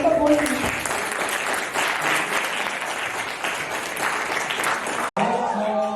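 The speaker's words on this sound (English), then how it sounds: "Let's give a big round of applause for both teams." Audience applause for both teams at a student-organized debate competition, a dense sustained clapping that fills about five seconds, breaks off abruptly, then gives way to talk.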